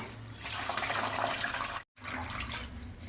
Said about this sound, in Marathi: अशीच आपल्याला दोन पाण्याने धुवून घ्यायची